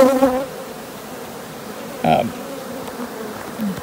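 Honey bees buzzing around an open hive during queen rearing work, a close, intermittent droning hum with individual bees flying past the microphone.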